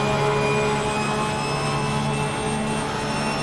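A racing video game's race car engine drones at high, steady revs down the front straight at Monza, loud and continuous with no voices.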